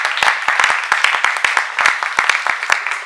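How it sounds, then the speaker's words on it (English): Church revival congregation claps hands together in a brisk, uneven burst of many close claps lasting a few seconds, loud and lively with no speech over it. "Clap your hands for Jesus."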